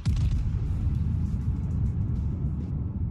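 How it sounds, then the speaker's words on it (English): Thunder rolls as a storm begins in the World of Warships naval battle game, a heavy, continuous low rumble that is loud and steady throughout, with no voices. "Thunderstorm has begun."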